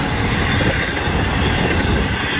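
A Florida East Coast Railway freight train of empty cars rolls past close by as a continuous loud rumble with rattling wagons and faint wheel squeal, no voices.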